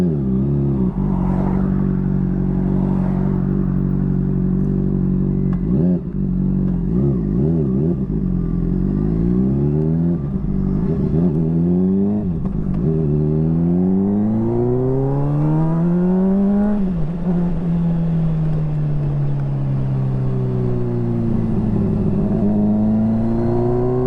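A motorcycle ridden slowly through a residential neighborhood in winter in Louisville, Kentucky, its engine droning loud and close with repeated rises and falls in pitch as it shifts and throttles up, no talking.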